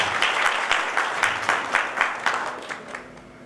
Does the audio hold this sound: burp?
no